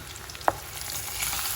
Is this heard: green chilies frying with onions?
yes